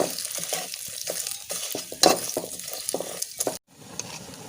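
Jackfruit seeds frying in hot oil give a steady crackling sizzle with stirring scrapes and one sharp clatter, the sound dropping abruptly near the end to a quieter low hiss.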